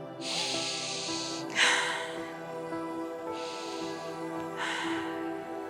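Slow, deep breathing during a morning yoga session, with two long airy breath cycles, each a hissing inhale followed by a softer exhale, heard close against a faint steady background hum.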